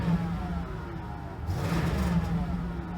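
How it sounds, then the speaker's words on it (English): A Cadillac Sedan DeVille engine revs in a brief, steady rise with a rumbling exhaust that is close and continuous, and no voices. "You can hear the exhaust has a nice little crackle to it."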